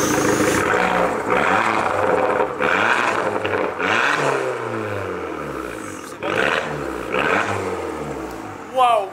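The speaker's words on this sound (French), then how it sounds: "on va écouter le bruit Regazzone, la ligne d'échappement, vous allez voir, ça fait un bruit de malade." An Abarth with a Ragazzon exhaust system revs hard, its engine roaring loudly up and down in several rising and falling sweeps with a throaty rasp, close to the tailpipe, one brief pop near the end.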